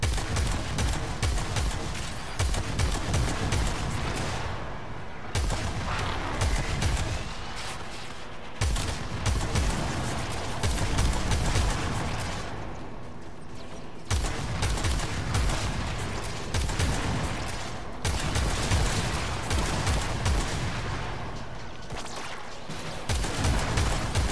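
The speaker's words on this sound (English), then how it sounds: "the Kuva Lich Arch gun. The Ayanga." The Kuva Ayanga arch gun fires in the video game Warframe, a long barrage of dense booming blasts in sustained bursts with brief gaps between them, loud and continuous for over twenty seconds, with no talking.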